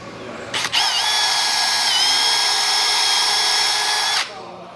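Power drill countersinking anchor holes in a garage, one steady high whine running about three and a half seconds with a brief start stutter, loud and close, then cutting off.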